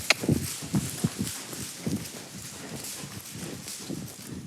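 A horse walks with a steady clip-clop of hooves, fairly close and moderately loud at first, then continuing more softly under a low background hum during a riding lesson for an amputee rider.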